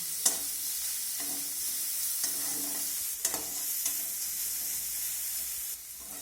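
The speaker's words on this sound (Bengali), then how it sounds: "পেঁয়াজটাকেও আমি একটু লাল করে ভেজে নেব" Onion frying in refined oil for a cauliflower, potato and soybean curry gives a steady, moderate sizzle, broken by several spatula stirs and scrapes against the pan.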